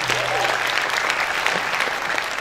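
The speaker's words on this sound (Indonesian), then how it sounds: "tepuk tangan sekali lagi." Sustained applause at an orchestra concert for a performer, a full, even wash of clapping from a sizeable audience with faint voices mixed underneath.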